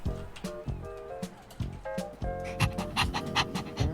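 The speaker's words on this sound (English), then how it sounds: "This is my dog Moogly." A dog pants rapidly and rhythmically up close, with quick repeated breaths through most of the stretch and some scuffling movement.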